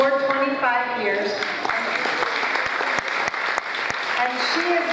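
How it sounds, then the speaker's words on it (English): Audience applause at a Nutley board of education meeting, honoring a retiring Nutley High School social studies teacher, with steady clapping that fills the clip under and between voices. "So extra applause for her."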